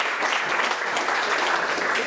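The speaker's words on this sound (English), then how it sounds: "Give him a round of applause." Brief burst of audience applause at a lean startup meetup welcoming a speaker to the front, a full even round of clapping from a small room throughout.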